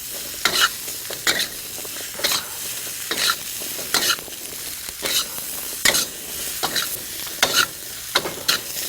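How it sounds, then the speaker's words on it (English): Zucchini pieces coated in spices are stirred in a hot pan, a steady frying sizzle broken by regular scraping strokes of the spoon roughly every second, close and clear with no talking. "Now mix in very carefully all the zucchinis so that they're well coated with spice."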